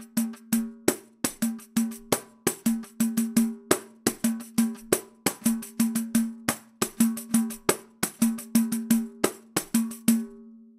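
Pandeiro playing a partido alto rhythm variation, crisp repeated slaps and jingle hits in a syncopated pattern, close and clear with no talking.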